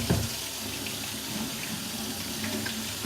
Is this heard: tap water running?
yes